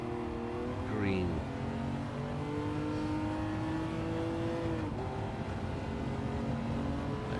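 Ferrari Testarossa race cars in a video game time trial, engines droning steadily with tonal harmonics that shift as gears change, under faint talk.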